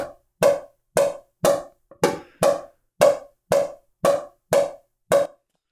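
A new Ronbus Ripple production-model pickleball paddle striking a ball eleven times in a steady rhythm, each hit a sharp, close, hollow pop with no talking.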